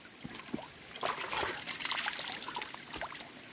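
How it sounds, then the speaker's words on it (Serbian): Water from a mountain stream trickles and splashes steadily over rocks, a close, continuous babble with brief brighter gurgles, and no voices over it. "Ovo je planinski potok gdje možete da se umijete, da se osvježite i da se napijete vode."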